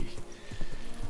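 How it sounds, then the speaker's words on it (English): Hoofbeats and a whinny from a horse in the video game Kingdom Come: Deliverance 2, short and loud under a voice. "watch out with that horse"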